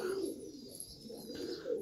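Young Takla tumbler pigeons coo softly near a loft, a few gentle low calls spread through the moment, fairly faint with no talking.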